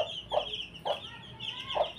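Brahma chickens cluck three times in short, evenly spaced calls, close by over a faint background hum, with no people talking.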